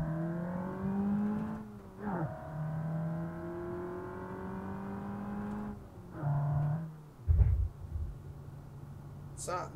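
A car in the BeamNG.drive driving game revs hard and accelerates after the clutch is dumped, engine pitch climbing through gears with short breaks at shifts, someone talking over it.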